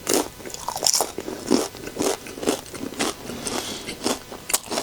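Close, loud crunching and chewing on microwave nachos topped with pepper and Old Bay, a steady series of crisp bites roughly every half second, with no talking.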